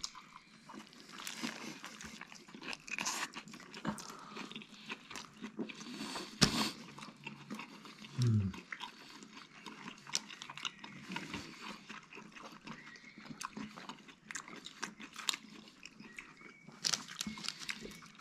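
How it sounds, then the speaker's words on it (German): Someone bites into and chews a Munich kebab sandwich up close, with wet crunching and smacking bites scattered irregularly across a quiet background, one louder bite near the middle. "Jetzt aber erstmal abbeißen."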